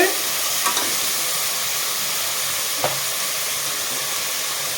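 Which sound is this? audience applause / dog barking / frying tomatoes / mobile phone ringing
frying tomatoes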